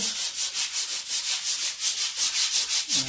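A tile edge is polished by hand with a rough abrasive, giving rapid rhythmic rubbing strokes, about five per second, each a close, raspy swish in a steady back-and-forth pattern with no voices.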